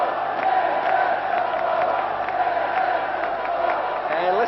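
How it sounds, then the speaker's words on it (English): Crowd at a 1989 ice hockey friendly between Czechoslovakia and the USSR roars and cheers steadily during a power play, a dense, sustained arena din. "And listen to that Czechoslovakian crowd."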